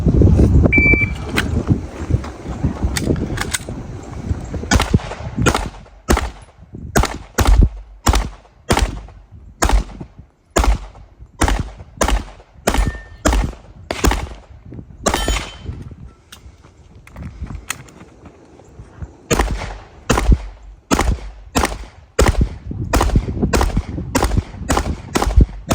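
A Canik Prime pistol fires at a shooting match in a rapid string of sharp, loud gunshots in quick bursts with brief pauses between strings, close to the shooter and echoing across an outdoor range.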